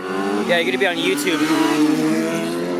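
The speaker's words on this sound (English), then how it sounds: "Doing a bit of revving here." A car engine revving on Danforth Road in Scarborough, Toronto, during weekday rush-hour traffic, a steady throaty drone running under close, continuous talking.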